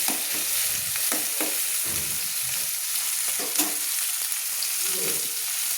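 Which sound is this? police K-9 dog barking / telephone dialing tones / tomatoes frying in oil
tomatoes frying in oil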